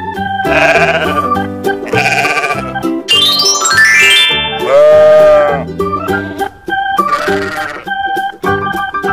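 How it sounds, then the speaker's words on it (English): Sheep bleating in an animated children's animal-sounds clip: several loud, wavering bleats one after another with short gaps, close and clear, mixed with jingly tones and no talking. "Sheep."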